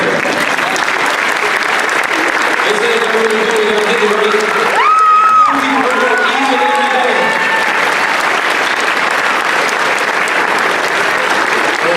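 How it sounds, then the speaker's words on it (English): Graduates at a 2019 community high school graduation ceremony stand and applaud with cheering, a steady dense clapping that runs loud throughout, with a speaker's voice and shouts over it. "I want everybody to stand up and clap for yourselves"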